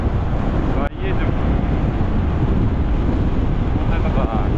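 Steady, loud wind rushes across an open seashore on the ocean, a continuous broadband roar with the low wash of surf beneath it and a brief dip near the start.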